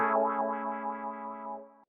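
A Roland Juno 6 synth pad holds a bright, sustained chord with a slow sweeping, wavering filter movement, playing alone before fading out at the end.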